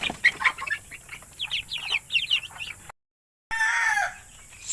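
Native chickens in a farmyard, a rooster crowing loudly amid repeated clucking, with wings flapping; a short gap of silence, then another close crow.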